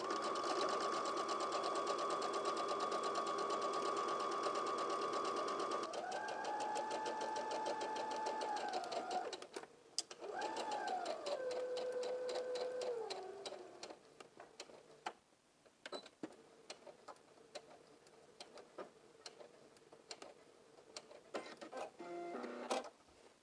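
Sewing machine stitching a skirt seam from hem to top, a loud steady motor whir with changes in pitch, a brief stop, then more stitching before it fades into scattered light clicks and taps.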